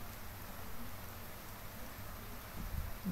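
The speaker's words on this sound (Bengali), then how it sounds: "আর এখন হচ্ছে প্রচণ্ড পরিমাণে বৃষ্টি নামছে।" A steady wash of rain falls continuously, even and moderately loud, with a couple of faint thumps near the end.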